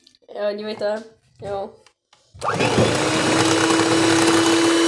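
A blender mixing pancake batter, starting abruptly after a few spoken words and then running loud and continuous with a steady whirring whine.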